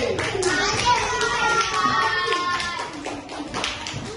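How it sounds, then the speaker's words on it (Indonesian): Children in a classroom clap their hands together in quick, uneven bursts, close by, with some children's voices mixed in. "tepuk tangan lagi"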